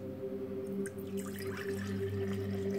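Water is poured off from beneath a layer of cooled, solidified beeswax during propolis extraction, giving a close trickle with a few drips over a steady low hum.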